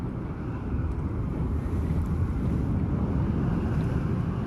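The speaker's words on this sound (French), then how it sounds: "y a du vent" Steady wind blowing across an open outdoor area in the Hogwarts Legacy video game, a continuous low rushing roar with no other sounds.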